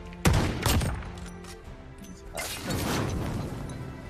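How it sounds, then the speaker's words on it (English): A fire bomb explodes in a console video game: a sharp, loud blast followed by crackling, then a second rumbling burst of flames a couple of seconds later. "That's my fire bomb."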